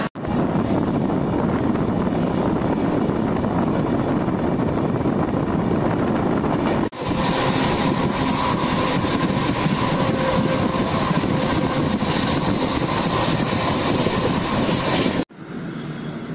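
A passenger train rolling toward Prayagraj, heard from inside as a loud, constant rumble with heavy rushing air, an abrupt shift in tone partway through and a sudden drop near the end, no voices.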